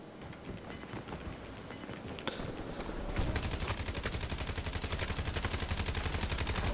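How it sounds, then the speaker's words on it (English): Gunfire in a Call of Duty Warzone gunfight: scattered distant shots and clicks, then a loud, rapid automatic burst that hammers steadily for the last few seconds, no talk. "He jumps the wall and I'm able to just shoot him down."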